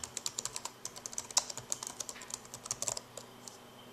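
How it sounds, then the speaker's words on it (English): A search being typed on a computer keyboard: a quick, steady run of light key clicks, close and fairly quiet, easing off toward the end, with no talking. "let's just type in quadratic factoring."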